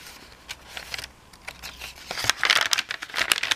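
Washi tapes for a junk journal crinkle and rustle as they are handled, a close, dry crackling that comes in scattered bursts and grows busier and louder toward the end.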